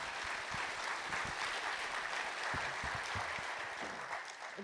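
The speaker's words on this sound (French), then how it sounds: "On peut les applaudir." Quiet, steady applause from a conference audience after a round table session on AI coding agents, a dense even wash of clapping heard from a distance.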